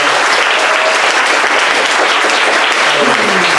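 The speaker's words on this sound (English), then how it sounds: "Give it another round of applause for Rebecca" An audience at a storytelling event applauds, a loud, dense, continuous wash of clapping that holds steady throughout, with a few voices faintly mixed in.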